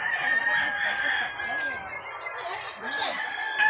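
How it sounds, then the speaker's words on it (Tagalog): Chickens and roosters at a poultry farm in Carcar, Cebu, with crowing and clucking from several birds at middle distance, continuous over a steady ambient background. "Nandito kami ngayon sa poultry farm."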